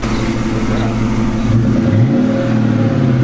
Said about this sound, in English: Give it a little rev for me.